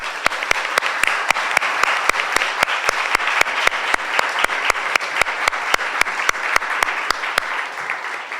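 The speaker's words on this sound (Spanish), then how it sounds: "que le demos un aplauso porque su presentación está muy padre" Conference audience applauding a presentation, steady and dense clapping throughout with a few sharp louder claps standing out, no talk over it.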